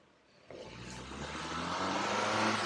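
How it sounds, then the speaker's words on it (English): A car rolls slowly closer, its engine hum starting faint and swelling steadily louder as it approaches, with no voices. "I'm being followed by a car going very slowly"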